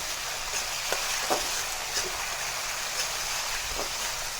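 A steady, dense sizzle of potatoes frying in a pan fills the clip, with occasional soft scrapes of a spatula stirring, close and fairly loud.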